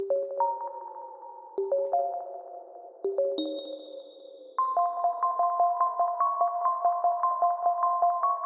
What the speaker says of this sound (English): It almost has that creepy, almost hopelessness bell sound to it.